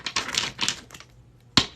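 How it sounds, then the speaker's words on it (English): A deck of tarot-style cards is shuffled close by, giving dense riffling bursts of crisp card noise and then a short pause before one final sharp snap. "We're just going to shuffle these cards."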